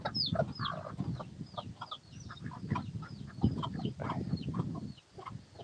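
A rooster and a few hens in a breeding coop cluck and chatter nearby in a continuous, overlapping stream over a low background rumble.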